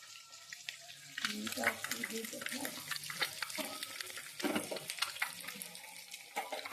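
Several eggs fry in a pan, cooked only lightly, giving a steady broadband sizzle with brief clattery bursts as they are moved, while a low voice-like murmur runs underneath.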